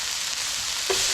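Sliced tomato sizzles in a hot pan, a steady close frying hiss throughout with a brief soft knock near the end.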